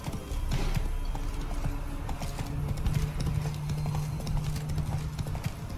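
A horse gallops in the video game Witcher 3 Wild Hunt, its hooves beating a fast, steady clip-clop close up over a constant game ambience.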